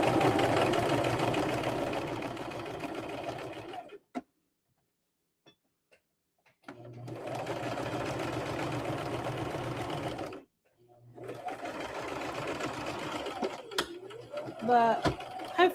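A sewing machine runs in long steady whirring bursts with a rhythmic mechanical chatter, stopping for silent pauses between runs, close and loud, with some fainter clicks near the end.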